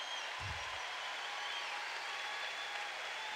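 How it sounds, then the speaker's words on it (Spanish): Applause for the Lord at a church gathering in Resistencia, Chaco, a dense, steady wash of clapping from a large crowd filling the whole clip at a fairly distant, even level. "dale fuerte el aplauso al Señor."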